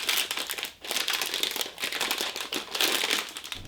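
A resealable plastic bag of sultanas is opened and handled, giving close, continuous crinkling and rustling of plastic with brief pauses, no talk.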